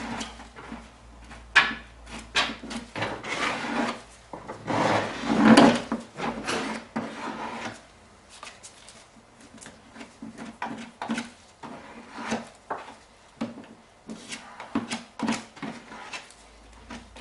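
Repeated scraping strokes of a plastic card's flat edge across a surface during interior work, irregular in rhythm, close by, with a louder rasping burst near the middle.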